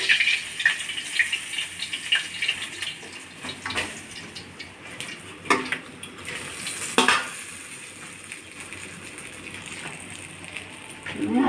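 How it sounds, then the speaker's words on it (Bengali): Rohu fish pieces fry in oil with a soft, steady sizzle, broken by utensil clinks and a few sharp clatters as the pieces are lifted and turned. "আমি সমস্ত মাছ একই রকম করে ভেজে নেব"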